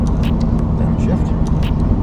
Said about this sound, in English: Downshift one more time.